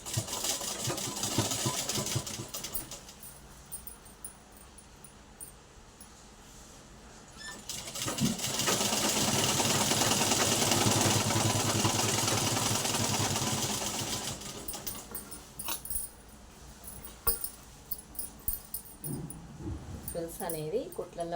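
An electric sewing machine stitches the lining of a silk skirt: a continuous whirring run of about seven seconds in the middle, with a person talking before and after it and handling noises around it.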